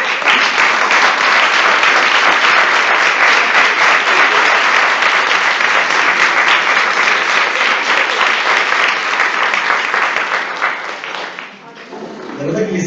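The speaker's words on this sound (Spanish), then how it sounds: "yo creo que un aplauso espontáneo" A large audience bursts into spontaneous applause, loud sustained clapping from many hands for about eleven seconds before dying away, with a voice starting to talk at the end.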